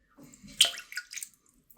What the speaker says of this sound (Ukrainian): І потихеньку відчиняємо кран, щоб щоб побачити, заходить сюди вода чи ні.